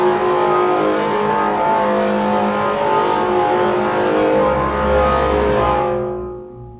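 Droney, tonal sample processed through Ableton resonators with overdrive distortion, a dense sustained buzzing texture that holds loud and steady, then fades out near the end.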